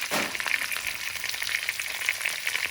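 Half a green pepper, half a red pepper and an onion sizzle steadily in a hot pan for a British Indian restaurant-style chilli chicken fry, a close, continuous crackle with no talking.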